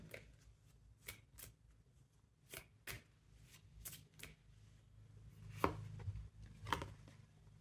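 Tarot cards being handled and drawn in a quiet room, with sharp isolated snaps and flicks of card stock spaced irregularly over a faint low hum.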